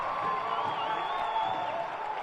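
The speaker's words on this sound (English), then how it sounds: "the crowd love the challenge" Stadium crowd at a professional football match between Louisville City FC and Loudoun United FC, cheering and whooping after a clean tackle. The roar is steady, distant and sustained for a couple of seconds, with a faint whistle-like tone riding over it.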